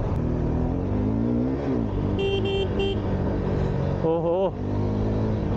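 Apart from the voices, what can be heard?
125cc motorbike riding at full power on a highway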